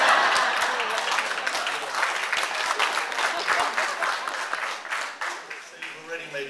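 Loud audience applause greets a speaker taking the stage at a talk at the Free Library of Philadelphia, a dense sustained wash of many hands clapping that slowly thins and fades toward the end.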